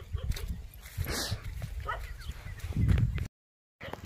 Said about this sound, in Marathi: ते कुत्र सुद्धा आम्हाला भोगतोय.